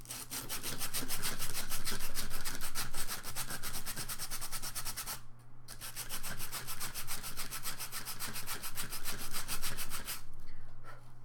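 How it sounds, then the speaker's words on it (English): Sanding by hand with 100-grit sandpaper, likely on wood, as a steady rapid back-and-forth rasping that runs close and loud for most of the stretch, with two brief pauses. "Got my handy dandy 100 grit sandpaper,"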